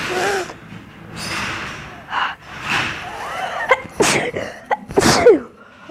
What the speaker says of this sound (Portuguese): Ai, que espirro forte.